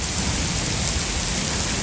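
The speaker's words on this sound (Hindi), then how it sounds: "बारिश काफ़ी अभी भी ज़्यादा हो रही है, बादल गरज रहे हैं" Heavy rain pours down in Faisalabad just after a hailstorm, a dense unbroken hiss on surfaces with thunder rumbling low beneath it, loud and close for the whole moment.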